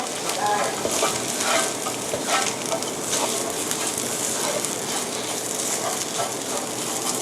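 Minced shrimp and coconut stir-frying in a pan: a steady, close sizzle with scraping, stirring strokes running throughout and no talking.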